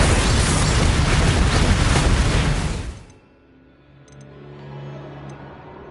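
In a Hogwarts video game, Confringo and Bombarda spells set off a loud, sustained explosive roar with crackling bursts for about three seconds, then cut to a quiet low hum with faint ticks.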